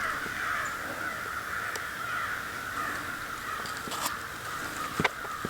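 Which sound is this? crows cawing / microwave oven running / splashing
crows cawing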